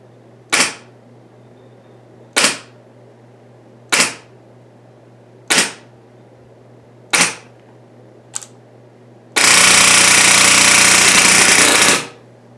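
SMP paintball marker firing at 50 psi: five sharp, evenly spaced shots about every 1.6 seconds, a small click, then a loud sustained hiss of gas venting for nearly three seconds.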